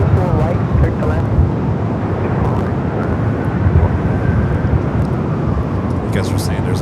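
A Qantas Boeing 787 Dreamliner taxis at Los Angeles International Airport toward the Tom Bradley International gates, a loud, steady jet roar with gusty wind buffeting the microphone throughout.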